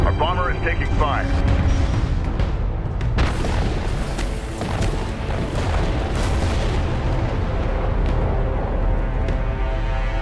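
In the space strategy game Homeworld: Deserts of Kharak, a bomber takes fire amid loud booming explosions and gunfire over a droning engine, with a voice speaking over the battle.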